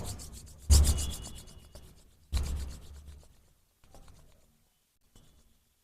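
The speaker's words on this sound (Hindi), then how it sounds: "धीरे धीरे रब करते हुए हाथों को" Palms rubbed slowly together during pranayama practice, two soft, close swishing strokes that trail off into quieter rubbing and a faint final brush, with no speech.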